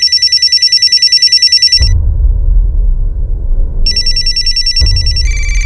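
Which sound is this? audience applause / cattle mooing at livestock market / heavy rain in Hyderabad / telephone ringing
telephone ringing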